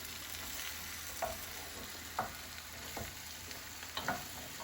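Butternut squash being stirred into onions cooking in butter and olive oil, a steady pan sizzle under a few scraping stirs with a spoon, close and fairly quiet.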